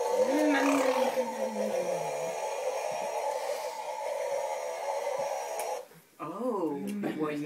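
A young boy imitates a motor engine noise with his voice while riding with his grandmother, a rising and falling buzzing hum over steady background noise, with adults talking around it.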